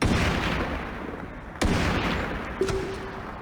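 A WA Soccer sniper rifle in Sniper 3D Assassin fires one sharp, loud shot midway. Rumbling game noise sits under it, and a short tonal blip follows soon after.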